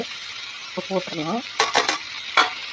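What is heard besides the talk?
ivy gourd (kovakkai) deep frying in oil on high flame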